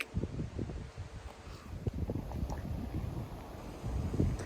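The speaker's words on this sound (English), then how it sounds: "it's a little bit windy today" Gusty wind at Castley Bank near Grayrigg, Kendal, buffets the microphone with a steady low rumble and irregular bursts throughout, loud and close.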